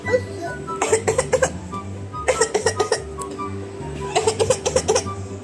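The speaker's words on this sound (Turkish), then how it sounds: "Ay çok öksürdüm ben yeter" Several bursts of harsh coughing come in three clusters, each a quick series of rough hacks, loud and close, with pauses of quieter sound between.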